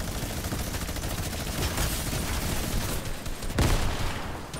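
Dense video game gunfire in a battle royale match, continuous rapid shots and bursts layered into a loud, busy wash with a sharper blast near the end.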